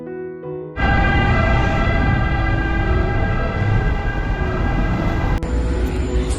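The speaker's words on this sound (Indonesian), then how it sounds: "Itu tadi adalah suara bunyi mobil ambulans di Roma." A loud ambulance siren blares steadily nearby on a street in Rome, Italy, starting abruptly and holding a continuous wailing tone over street noise.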